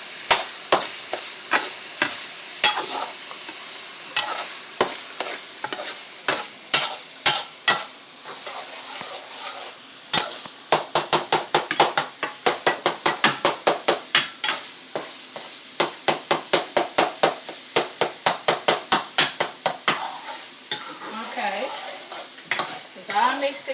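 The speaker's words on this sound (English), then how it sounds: "Then I'm going to mix it with my ground beef mixture." Ground beef mixture with sauce being stirred in a frying pan for homemade lasagna, a steady run of close spoon scrapes and clacks over a soft sizzle, speeding into rapid rhythmic strokes midway before easing off.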